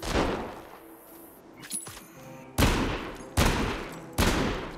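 Loud gunshots from the VR zombie shooter Arizona Sunshine, three sharp blasts spaced about a second apart following scattered quieter clatter, with no talking.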